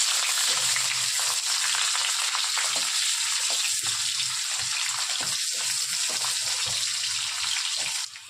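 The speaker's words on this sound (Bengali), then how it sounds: "পেঁয়াজটা একটু ভেজে নিয়েছি" Onion frying in hot oil for lentil dal, a loud steady sizzle up close with intermittent stirring scrapes, ending abruptly.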